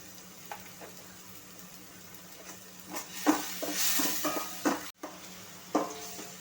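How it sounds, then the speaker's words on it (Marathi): Green masala paste sautéing in a pan for a white pea and spinach dish, a low steady sizzle with scattered scrapes and clinks of a spoon against the pan, a few sharper knocks toward the end, no talking. "वाटण व्यवस्थित परतून झालेलं आहे"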